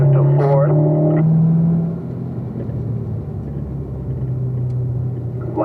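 A race car's engine holds a steady drone on track, then its pitch drops as it upshifts to fourth gear and carries on at a lower, continuous rumble, with some voice-like tones over the start.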